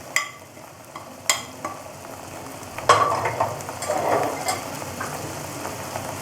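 Spoon stirring salt, Kashmiri red chili powder, coriander and cumin powder into a pan for fish kofta curry: a few sharp clinks against the pan, then a soft scraping stir over a gentle sizzle.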